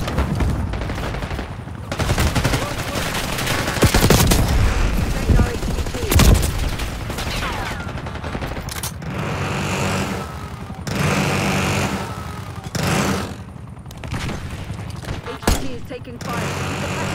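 Gunfire during a Black Ops 6 match, rapid automatic bursts and scattered single shots recurring in loud clusters amid combat noise and engine hum.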